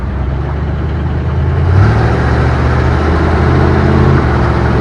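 A 1958 Plymouth Suburban two-door wagon engine hums loudly from inside the car, then rises in pitch as it accelerates, holding a strong steady drone.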